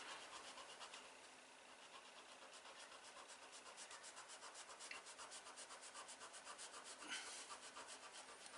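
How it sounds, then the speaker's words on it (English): Sandpaper rubs back and forth along the edge of a leather wallet in quick, even strokes, a close, faint rhythmic scratching that continues without pause. "I just sand my edge. I'm only going probably 1/8 of an inch."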